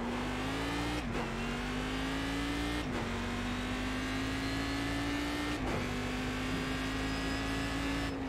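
A race car engine in the iRacing video game drones loudly and continuously, with its pitch climbing under acceleration and dropping briefly at three gear shifts.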